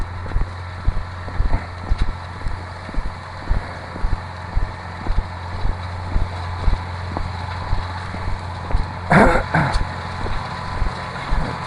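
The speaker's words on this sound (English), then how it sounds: "Tractor." A tractor plowing farmland in lavender-growing countryside, a steady low engine drone at a distance with wind rumble and scattered soft knocks, plus a brief louder rustling burst near the end.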